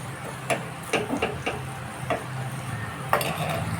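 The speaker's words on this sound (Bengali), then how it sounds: "ভালো করে ভেজে নেব।" Chopped garlic, red chili powder and kasuri methi fry for a veg tarka in a pan, a low steady sizzle broken by irregular scraping and clicking stirs of a utensil against the pan.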